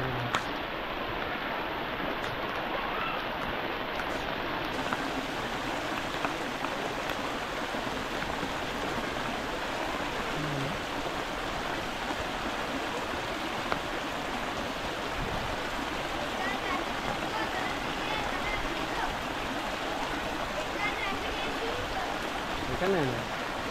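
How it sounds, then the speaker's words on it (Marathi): Heavy rain during an Independence Day flag hoisting at a Marathi school, a dense steady hiss of falling water lasting throughout, with faint voices underneath. "पाऊस खूप आहे"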